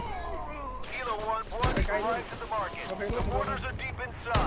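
Gunfire in the video game Delta Force, with sharp, close shots in a few bursts cutting through constant speech, with faint distant firing behind.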